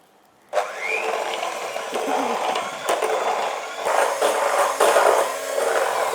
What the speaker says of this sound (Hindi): अभी हम क्रीम विप कर रहे हैं